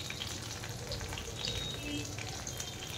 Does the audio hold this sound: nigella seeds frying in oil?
yes